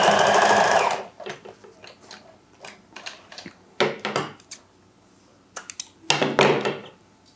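A sewing machine stitches lace onto fabric with the presser foot resting half on the lace: one loud steady run opens, followed by short, uneven bursts of stitching separated by quiet pauses.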